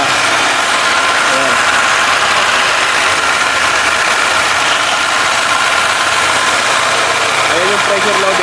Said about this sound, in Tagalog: Umandar yung ating makina.